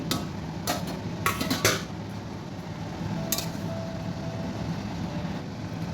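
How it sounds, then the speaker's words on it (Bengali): A lid comes off a pot of milk shukto with a few quick, faint metallic clatters and clinks over a steady low kitchen hum, followed by a quieter rattle, with no talking. "ঢাকাটা খুলছি"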